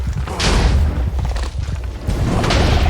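Deep, booming thuds from a bombarding machine firing shots in a Minecraft mob battle, loud, close, repeated explosive impacts rolling one into another with no pauses.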